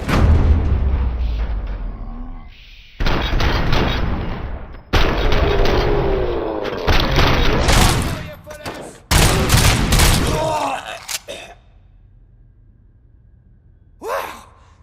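Loud gunshot bursts in Robocop: Rogue City, heavy clustered firing in several separate volleys with short pauses between them, ending in quieter silence.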